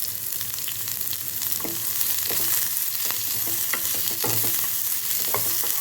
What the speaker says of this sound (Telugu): ఇప్పుడు సన్నగా తరుక్కున్న ఉల్లిపాయ వేసుకుందాం